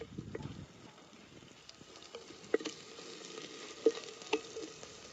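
Chili and turmeric frying in hot oil in a pan for kadhi bhaji, a soft, steady sizzle with occasional stirring scrapes and clinks, heard close and fairly quiet.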